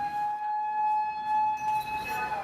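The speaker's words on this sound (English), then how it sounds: "This footage captures the moments after the sirens sounded." A tsunami warning siren in Japan holds a steady, loud, tonal wail that sounds from a distance and carries on alone throughout with no talk.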